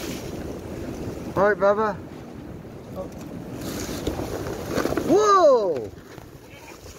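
Wind blowing outdoors on a windy day while leaves are being raked, a continuous rumbling gust against the microphone that swells and eases under two short bursts of talking.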